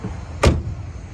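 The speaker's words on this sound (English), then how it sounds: "Shut the door here." A single solid thump as the door of a 1967 Chevrolet Chevelle shuts nearby, against a quiet background.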